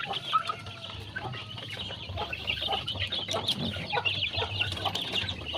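Several free-range village chickens cluck and squawk close by in a backyard netted coop, overlapping irregular calls over a low steady hum, no talking.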